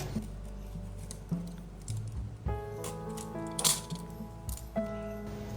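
A wooden skewer is cut to length for Halloween ghost decor, giving a few sharp, quiet snapping cracks spaced about a second apart over soft background music.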